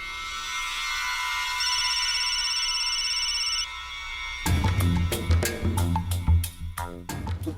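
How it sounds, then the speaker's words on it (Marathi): A telephone rings with a steady electronic tone for a few seconds, left unanswered, then gives way to loud rhythmic music with sharp beats. "उचलत नाहीये फोन."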